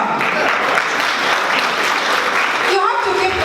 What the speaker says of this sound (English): You have to keep clapping.